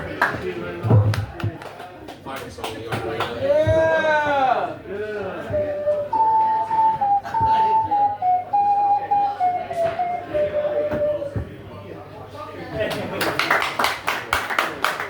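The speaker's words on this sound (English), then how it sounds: "A round of applause for Sylvan." Audience applause and whistles for a poet at a poetry recital, clapping throughout with a whistled melody rising and falling in the middle and a fresh burst of claps near the end, voices mixed in.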